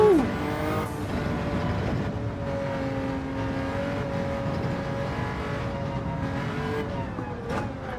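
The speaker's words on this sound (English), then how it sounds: "twin turbo V12" Twin-turbo V12 car engine in the Gran Turismo 7 racing game, a steady sustained drone with a rising whine at the start, holding a constant pitch throughout, heard alone without talk.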